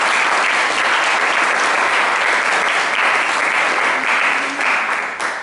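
Steady, dense applause from a concert audience at a music school recital, loud and continuous for several seconds with no voices over it, easing slightly near the end.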